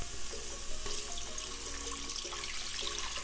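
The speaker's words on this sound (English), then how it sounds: "So the whole container of veggie broth goes in." A 32-ounce container of veggie broth poured into a soup pot, a close, steady gurgling pour of liquid over a few seconds.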